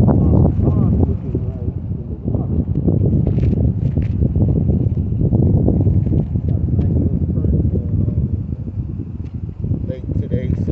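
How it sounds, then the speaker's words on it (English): Strong wind gusting by a lake on a cold day, a loud steady rumble buffeting the microphone throughout, with faint rustling and a voice talking under it. "I just need this wind to stop a little bit so I can."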